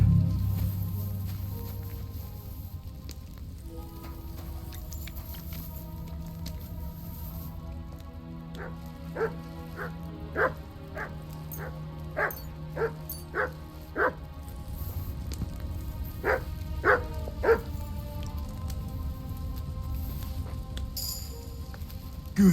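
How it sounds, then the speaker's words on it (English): Dog in the video game Kingdom Come Deliverance 2 barking in two bursts of quick, evenly spaced woofs over a soft ambient bed, moderately near and fairly loud. "Good doggy, good boy."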